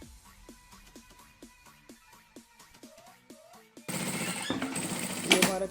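A sewing machine topstitches fabric in a steady run of rapid mechanical stitching bursts, close and clear, before louder, denser machine noise takes over toward the end.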